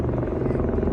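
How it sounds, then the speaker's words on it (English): A helicopter over the Las Vegas Strip produces a loud, steady rotor throb with a fast rhythmic chop and a low rumble, close and continuous. "I've got a helicopter."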